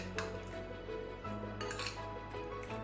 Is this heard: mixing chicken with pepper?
yes